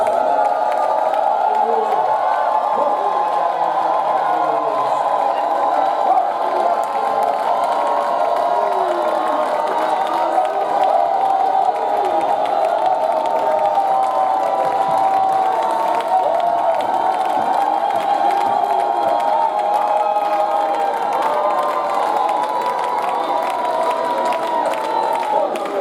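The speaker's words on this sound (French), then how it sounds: "Est-ce que nous pouvons juste pousser nos cris vers le Seigneur pour un moment?" A church congregation shouts and cries out with joy in worship, a loud sustained roar of many voices, whoops and cheers filling the room without a break.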